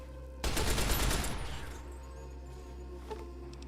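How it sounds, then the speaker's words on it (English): Burst of machine gun fire in the video game Fallout: New Vegas, a loud rapid volley lasting about a second before fading into a lingering tail and a few fainter later shots. "It's a machine gun. I guess I can try to use this."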